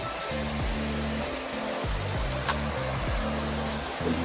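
Bolao Falls waterfall in Talakag, Bukidnon, a steady broadband rush of falling water heard close, with people talking intermittently over it.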